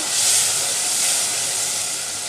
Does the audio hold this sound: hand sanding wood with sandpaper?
no